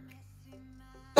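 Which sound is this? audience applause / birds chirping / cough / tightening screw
cough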